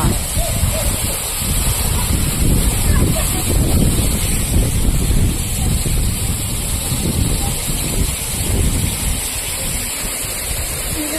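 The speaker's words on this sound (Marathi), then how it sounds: "हे पाणी दगडांवर कसं ठेसाळत आहे" Waterfall water in the countryside near Fofsandi village crashes and splashes onto rocks, a dense, unbroken roar up close, with wind buffeting the microphone throughout.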